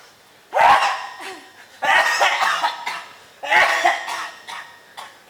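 Three harsh, wet coughing fits from a man with a cold, each a heavy burst followed by smaller rasping coughs, evenly spaced with short quiet gaps between.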